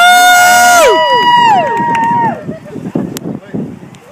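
A live comedy show audience cheers and whoops loudly, rising voices that trail off into scattered shouts and chatter as the crowd settles, with a performer's voice mixed in.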